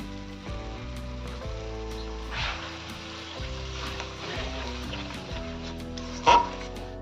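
A paste of cashew, fennel and green chilli fries in a pan, its quiet sizzle sitting under loud tonal music, with a brief sharp clatter near the end.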